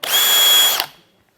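A Hilti SF 10W-22 cordless drill driver whirs loud and close in one steady burst of under a second, then cuts off sharply and rings down into silence.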